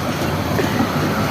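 Inside the Kalni Express passenger train, a dense, continuous rumble of wheels on rails fills a brief moment, close and steady with no clear speech.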